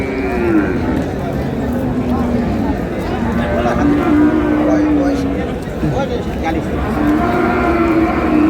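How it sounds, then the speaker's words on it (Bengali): Cows and calves low repeatedly at a busy rural cattle market, several drawn-out moos near and far over a constant crowd murmur with people talking. "আর এখানে একটি গাভী বাছুর দেখছেন বেলাল ভাই।"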